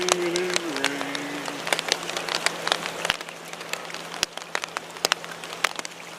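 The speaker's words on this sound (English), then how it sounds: "Oh, you gotta love this rain." Steady rain pattering and dripping on a rainy December day of trout fishing by a southern Ohio stream, dense and close with sharp individual drops, and a brief voice at the very start.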